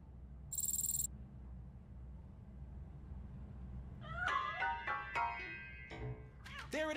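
A cat meowing in the video game RoboCop: Rogue City, several short rising and falling meows near the end, close and fairly clear over a low ambient hum, after a brief electronic beep.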